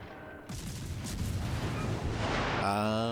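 Naval gunfire in World of Warships: Legends, a Tashkent destroyer blasting away: a sudden loud boom opens a dense, sustained rumble of repeated shots and impacts, closing with a brief tonal game sound.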